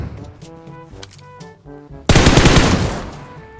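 Loud, dense burst of automatic gunfire erupts suddenly in a battle royale video game, sustained and close after a stretch of quieter game music and effects.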